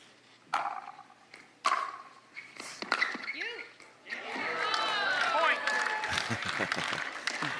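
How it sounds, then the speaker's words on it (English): Crowd oohing and aahing at a pickleball doubles match at the Vizzy Atlanta Open, a rising murmur of reaction that swells and holds, preceded by paddle pops and followed by talk. "Oohs and ahs from the crowd."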